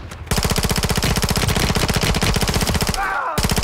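Rapid automatic gunfire from a firefight in Call of Duty: Modern Warfare III, loud and close, with a steady stream of shots running almost without pause before a brief break and another burst.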